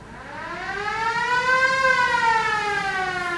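A theatre organ's siren effect wails steadily, its rising, sustained tone swelling slightly and holding loud and alone for a few seconds.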